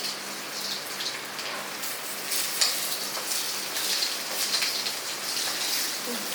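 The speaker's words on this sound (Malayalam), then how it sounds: "അപ്പം ഇതൊന്ന് വറുത്തെടുക്കട്ടെ" Toor dal frying in hot oil, a steady crackling sizzle with scattered sharper pops, close and moderately loud throughout.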